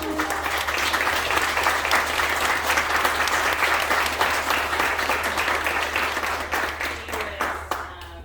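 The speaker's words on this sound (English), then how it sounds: "a little round of applause to Hedy" Sustained applause from a crowd, loud and even, with many hands clapping together before it begins to taper off near the end.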